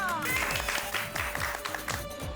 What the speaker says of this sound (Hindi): भाभी के लिए जोरदार तालियां।